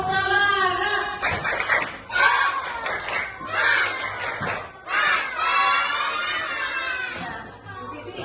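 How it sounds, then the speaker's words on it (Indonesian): A class of children does the tepuk semangat clapping chant, with bursts of claps and excited shouting voices from the crowd of kids running through the whole stretch, loud and busy. "Coba tepuk semangat."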